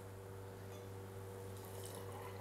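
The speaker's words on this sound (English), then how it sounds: "I'm going to add in three parts tonic water." Tonic water poured into gin in a glass, a steady fizzy liquid rush running evenly throughout with a faint hum beneath.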